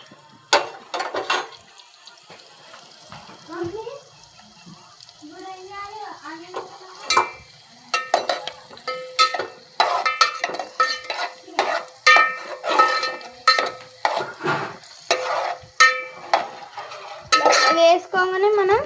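A spoon stirring chicken curry in a pot, with intermittent scrapes and sharp metallic clinks against the pot that grow busier toward the end, and a person talking in between.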